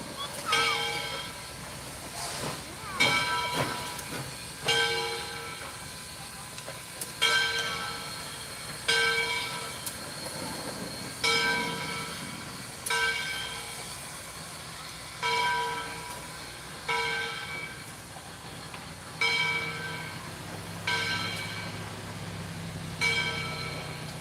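A steam locomotive pushes a train near the Summerville, Georgia turntable, heard as a series of clanking, ringing metallic beats at regular intervals over a low rumble, moderately distant and without talk.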